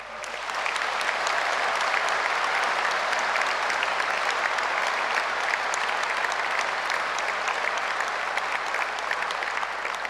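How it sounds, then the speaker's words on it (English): A large graduation audience at Edinburgh Napier applauds steadily and loudly for the full ten seconds, a thick, even wash of clapping without a break. "give yourself the loudest applause for your strength, your journey, and the recognition that you deserve"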